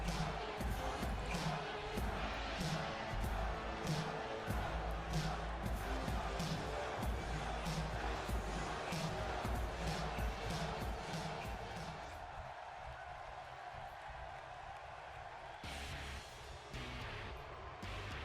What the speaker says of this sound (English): you guys hear the boos